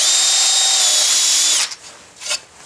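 A power drill fitted with a 3/16 bit enlarges a hole in a router table insert, a loud, close, steady high whine lasting about a second and a half before it cuts off, followed by a couple of light scraping rubs.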